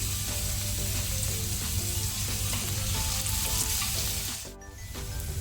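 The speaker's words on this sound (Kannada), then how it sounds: "ಈರುಳ್ಳಿ ಸ್ವಲ್ಪ ಫ್ರೈ ಮಾಡುವ ನಾವು." Chopped onion with salt frying in a pan for kanda poha, a steady loud sizzle throughout with occasional stirring scrapes and a brief dip near the end.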